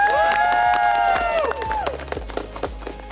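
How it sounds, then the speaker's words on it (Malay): Studio audience at a Malaysian entrepreneur competition show claps and cheers as the top ten entrepreneurs are announced, dense applause under a bright sustained musical sting that fades halfway, leaving scattered claps and crowd noise. "Berikan tepukan."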